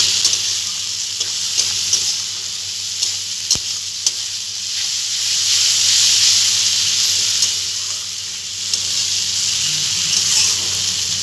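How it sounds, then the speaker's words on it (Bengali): Spice paste fries in oil in a pan while fish bone jhal is being cooked, giving a steady loud sizzle with faint stirring scrapes and one sharp knock partway through. "মশলাটা ভালোভাবে কষিয়ে নেব"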